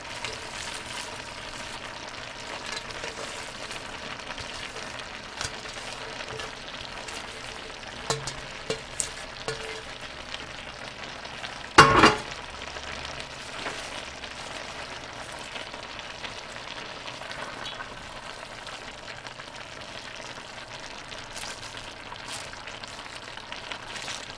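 The second half of the cabbage frying in a medium pot for a stir fry, a quiet continuous sizzle with scattered crackles and one brief louder clatter midway.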